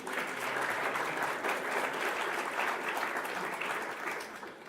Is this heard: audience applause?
yes